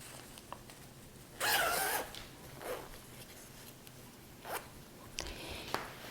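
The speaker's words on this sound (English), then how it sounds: "I'm going to open out my zipper." Dress zipper being opened during sewing: a short, crisp zipping rasp close by, followed by faint rustles and small handling taps of fabric in a quiet room.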